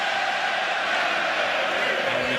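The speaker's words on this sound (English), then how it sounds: "And the crowd goes up from the Irish fans." Irish fans roar in a dense, sustained wash of cheering at the Mayweather vs McGregor boxing match, a steady crowd noise filling the arena throughout.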